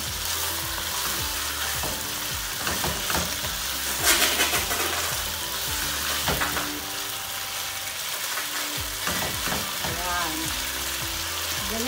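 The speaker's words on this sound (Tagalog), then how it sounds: "Mukhang masarap ang niluluto kong simpleng egg noodles" Simple egg noodles frying in a pan, a loud continuous sizzle with intermittent stirring scrapes and clinks, close and steady throughout.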